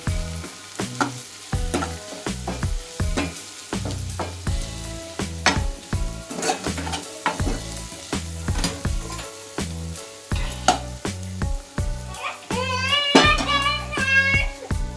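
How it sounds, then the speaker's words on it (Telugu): A spiny gourd curry with turmeric is stirred in a pan, the spoon scraping and clanking in a rhythmic series of knocks over a soft sizzle, close-up, with a short voice near the end. "ఇలా కావాల్సిన తగినంత పసుపు మళ్ళీ ఒకసారి మిక్స్ చేసుకోవాలి"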